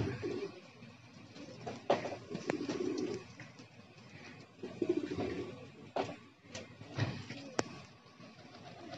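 A kasni pigeon in hot weather coos in several low soft bursts, fairly faint and close, with sharp clicks and rustles between the calls.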